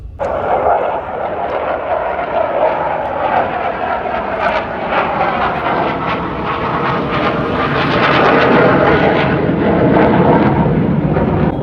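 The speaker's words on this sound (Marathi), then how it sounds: "फायटर प्लेन आहे, फायटर प्लेन." Fighter jet flying overhead on the road to Leh, Ladakh: a loud, sustained broadband roar that swells toward the end, with no speech over it.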